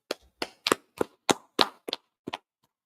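A handful of sharp hand claps from a small group at a biblical law class gathering, roughly eight separate claps in an uneven rhythm, close and fairly quiet, then falling silent.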